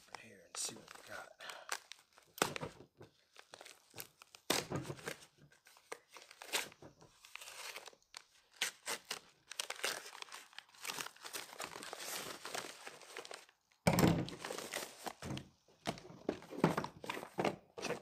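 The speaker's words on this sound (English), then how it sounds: "let's cut this bad boy open here and see what we got." Plastic packaging around a brass catcher for an AR rifle being cut and torn open by hand, giving close, irregular crinkling and ripping bursts with quiet pauses between them and a louder tearing stretch near the end.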